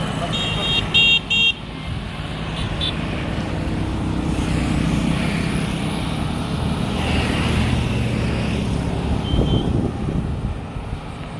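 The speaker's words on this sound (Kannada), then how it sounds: "ಸ್ವಲ್ಪ ಟ್ರಾಫಿಕ್ ಇದೆಯಪ್ಪ" Busy street traffic in a small town: steady engine rumble from passing vehicles, with a few short horn toots early on and someone talking throughout.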